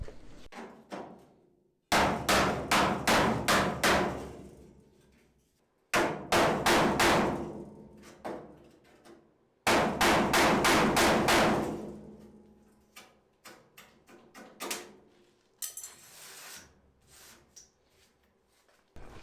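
A hammer drives a wood chisel along the front fender channel of a VW Beetle in three loud bursts of rapid metallic strikes, each run of several blows followed by ringing and quieter taps.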